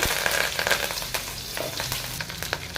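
Mustard seeds, cumin and curry leaves crackle and spit in hot oil for North Karnataka girmit mandakki, a dense steady sizzle dotted with sharp pops and the scrape of a stirring spoon, close and continuous with no talking.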